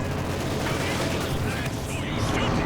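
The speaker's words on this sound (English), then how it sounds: "Mortar rounds flying through there." Mortar rounds firing and landing in the strategy game Company of Heroes 2, a dense, continuous roar of explosions and gunfire with no clear gaps, loud and busy throughout.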